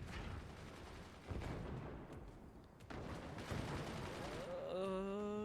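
Machine gun fire in the Forts strategy game: dense, continuous rattling bursts of gunfire with heavier booms mixed in, ending with a rising tonal whine, all fairly loud and without speech.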